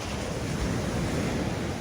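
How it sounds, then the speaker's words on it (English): Waves wash steadily onto a local beach, a dense continuous surf roar mixed with wind buffeting the microphone, with no voices. "I'm at my local beach, right? It ain't the best beach ever, but, you know, it's good to be near the water."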